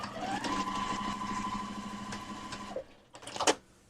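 Sewing machine stitching quilt block pieces, a steady close whirring drone with even rapid rhythm running nearly three seconds, then stopping, followed by a couple of brief clacks and handling noises.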